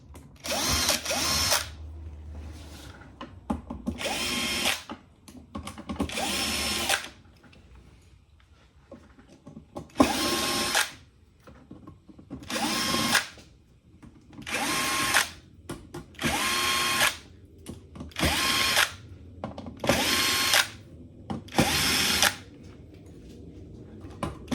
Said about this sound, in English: Now, I'm using a drill, but I highly recommend using a screwdriver to do this kind of job.